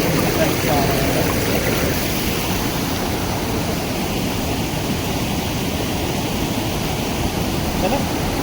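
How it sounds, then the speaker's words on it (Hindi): Water rushes steadily and loudly down a stream at a waterfall in Jim Corbett National Park, filling the whole stretch as a dense, unbroken roar. "देखिए दोस्तों कैसे पानी बह रहा है यहाँ पे।"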